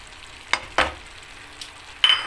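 Green beans and chopped peeled tomatoes frying in a pan get stirred, with a few brief scraping and sizzling bursts separated by quiet gaps and no talk.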